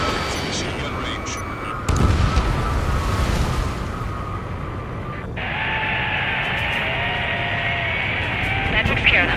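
Aircraft machine gun fire in Ace Combat 7: Skies Unknown, a dense continuous rattle over steady jet engine roar, growing louder partway through and continuing to the end, with voices talking over it.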